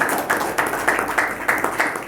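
An audience applauds filmmaker Sada Raja at a ceremony handing over artists' support cheques, with steady, rhythmic clapping in a regular beat that stays fairly close and even throughout.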